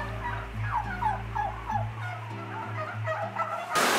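Free-range organic turkeys on a large meadow in the rain, giving a string of close gobbling and clucking calls over a low steady hum that cuts out midway.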